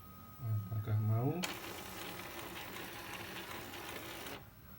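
An Epson L120 inkjet printer under repair whirs into a steady mechanical run lasting about three seconds, moderately loud and close, after a brief spoken voice at the start.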